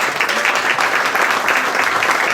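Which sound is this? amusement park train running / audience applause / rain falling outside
audience applause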